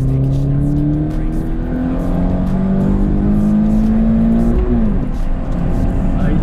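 A Toyota Prius 5 accelerates with a steady engine drone that rises gradually in pitch, loud and continuous, with a brief dip near the end as it shifts, while people talk excitedly in the car.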